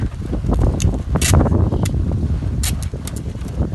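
Gusty outdoor wind buffets the microphone as a Mylar balloon is taped to the top of a column, a steady rumbling roar with brief rustling surges throughout.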